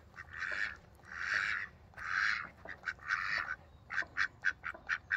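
Several ducks quack close by, a run of loud, drawn-out calls followed by quicker, choppy quacks, with no talking over them.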